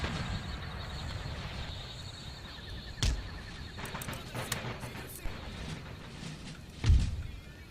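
Cavalry horses in Empire: Total War gallop and clop amid battle noise, with two heavy thuds standing out, hooves and whinnies layered over a steady rumbling background.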